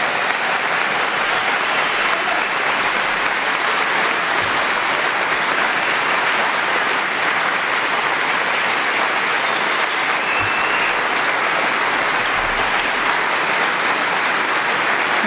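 Audience at the 2011 Wake County Republican Party Convention standing and applauding, dense sustained clapping that stays loud and even throughout, with a faint murmur of voices underneath.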